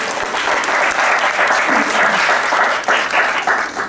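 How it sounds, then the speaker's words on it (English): Keynote audience at a summer conference applauds, loud close crowded clapping sustained throughout with small swells and dips, no voices over it. "let's just give Geoff a really another round of applause"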